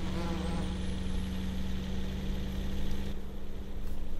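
A truck engine in Farming Simulator 15 drones steadily with a low rumbling hum and a faint high whine throughout, with no talking.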